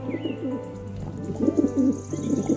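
Pigeons coo in soft repeated rolling phrases, close by, with a few faint chirps behind them.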